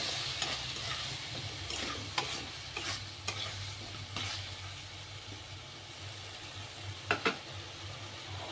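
Spices fry with onion and garlic in a pan, a soft, low sizzle under a few sharp scrapes and clatters of a spoon stirring, close but quiet overall.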